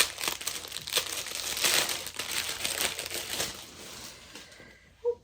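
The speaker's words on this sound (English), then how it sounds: "Sorry for the crinkle." Crinkling of plastic packaging around a 28 count Lugana fabric for cross stitch, a steady close rustle with small crackles that fades out near the end, with no talking.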